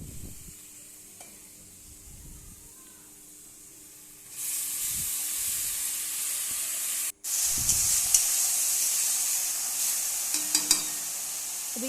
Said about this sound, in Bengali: এবার আলুটা আরও খানিকক্ষণ ভাজতে থাকবো।